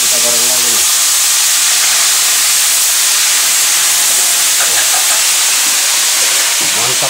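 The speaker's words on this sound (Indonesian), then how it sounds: "Ini rebus aja, ini kita goreng lagi nih." Boiled honje (torch ginger) sambal ingredients fry in hot oil with a loud, steady hiss and sizzle that runs throughout, with brief bursts of talk near the start and end.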